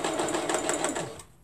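A sewing machine stitches fabric up to a pin, running in a steady, close, fast whir for over a second before slowing to a stop.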